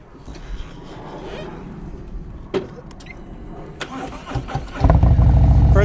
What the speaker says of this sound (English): I'm going to bring this bike to a smooth stop based on the definition I gave you.